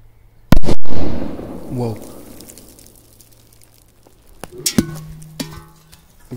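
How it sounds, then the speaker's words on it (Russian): A sharp dynamite firecracker blast goes off up close against a small metal can, followed by rumbling debris and fizzing, then a few smaller pops and crackles, with voices in the background. "Бахнем первый динамит."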